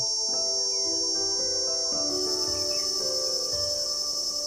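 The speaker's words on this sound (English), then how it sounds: "A single cicada's call can be heard from as far as 1 mile away." A cicada's shrill, steady buzzing drone, loud and unbroken, swelling slightly partway through, with faint background chirps underneath.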